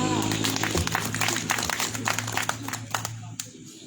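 An outdoor audience at a local coffee festival in Mae Hong Son claps in scattered, uneven bursts while an amplified voice and background music continue underneath, the clapping moderate and somewhat distant.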